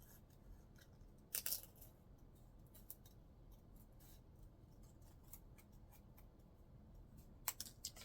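Scissors snip through paper while cutting out a small Santa figure for a handmade vintage-style Christmas ornament, a few crisp close cuts over a quiet background, with two sharper bursts of snipping.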